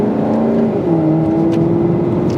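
Maserati GranTurismo MC exhaust revving loudly, a steady deep burbling drone with rising and falling engine tones, close and continuous with no talk.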